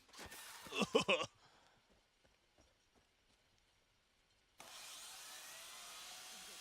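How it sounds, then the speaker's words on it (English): A saw gun weapon fires in the video game Far Cry New Dawn, with a loud grinding burst up front, a near-silent gap, then a steady whirring roar that runs to the end. "Here's the saw gun. Watch this in action."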